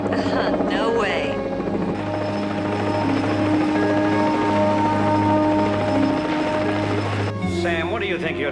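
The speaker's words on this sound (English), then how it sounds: "Your colleague is gonna put that chopper right in the water." A helicopter hovers low over water in a 1970s TV drama, its rotor roar and thumping loud and steady throughout, with voices briefly over it.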